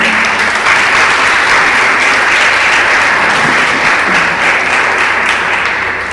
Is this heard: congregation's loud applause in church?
yes